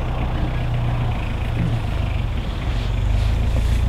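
A steady low engine rumble runs near a camp, a constant droning hum with a dense, noisy mechanical texture at moderate loudness and no talk over it.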